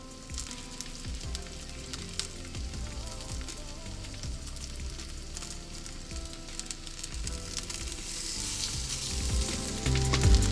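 Sweet corn and courgette fritters fry in a pan, making a steady close crackling sizzle throughout that grows slightly louder toward the end.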